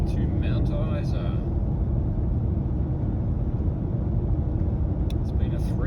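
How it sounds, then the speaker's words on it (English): A car drives into Mount Isa with a loud, steady low road rumble and engine drone close inside the cabin, and a voice talks faintly over it near the start and end. "And here we are, driving into Mount Isa."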